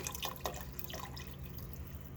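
Liquid glugs and drips while being poured for chicken noodle soup, irregular splashy pulses in the first second easing into a steadier trickle, close and moderately loud with no talking.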